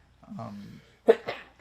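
A sharp sneeze cuts through a podcast conversation, quick and close to the microphone, right after someone speaks briefly.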